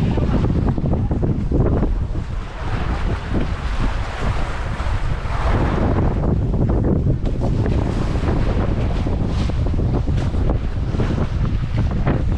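Strong wind and heavy waves at sea buffet a boat, with continuous loud roaring wind noise on the microphone and water crashing and sloshing throughout, no speech.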